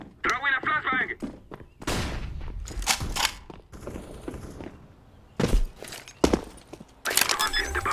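A flashbang grenade goes off during a video game shooter match, heard as several sharp bursts and bangs among gunfire and other game effects, with a voice talking over parts of it.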